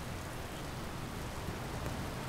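Rain falling in the survival video game Card Survival, a quiet, steady hiss of rainfall that stays even throughout without any talking.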